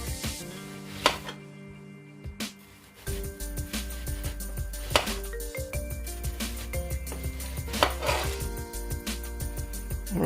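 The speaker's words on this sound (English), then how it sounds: "we're simply going to cut 1 large onion into rounds" A knife slices a large onion into rounds on a board, with irregular sharp knocks and chops close by, over steady background music and occasional clinks of kitchenware.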